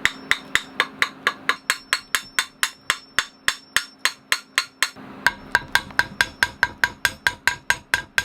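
Metal hammer blows ring out to knock threaded fittings loose aboard a 40 ft sailing boat: a steady, rapid run of sharp, close strikes with a brief pause midway, then more of them.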